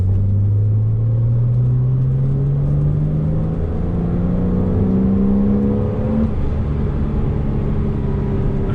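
A Porsche Cayman S in sport mode accelerates hard from inside the cabin, its engine note rising steadily through the gears in a loud, continuous rumbling drone with no talk.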